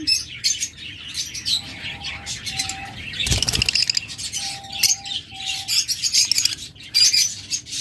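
Caged pet birds at a bird shop chirp and twitter in dense, overlapping calls, with a burst of wing flapping midway and a few short whistled notes, close and loud.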